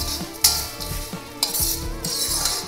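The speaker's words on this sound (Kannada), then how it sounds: "ಅಲ್ಲಿವರೆಗೂ ಇದನ್ನು ಫ್ರೈ ಮಾಡ್ಕೊಳ್ಳೋಣ" Chana dal and urad dal being dry-fried in a pan for Udupi sambar powder, with a soft continuous rustle broken by a few sharp scrapes of a ladle against the metal, close by and without talk.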